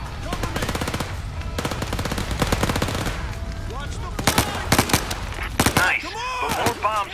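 Rapid bursts of automatic gunfire and single shots crackle loudly through a firefight in the zombie shooter Overkill's The Walking Dead, dense volleys early giving way to scattered sharper shots and impacts.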